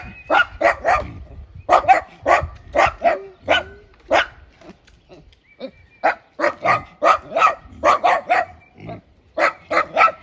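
A dog gives repeated short, excited barks and yips in bursts, close by, with brief pauses between volleys.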